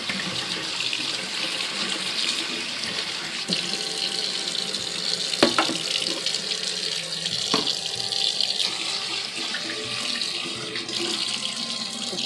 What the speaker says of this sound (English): Just be sure to wash them thoroughly